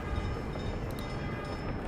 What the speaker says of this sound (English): Trains are now picking up.